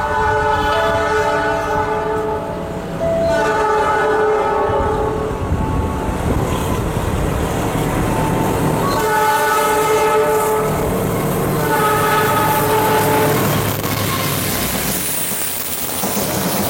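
The Tegal Bahari passenger train in Indonesia rumbles past close by while its horn blares in several long, loud blasts, with rain-like hiss of wheels on the rails.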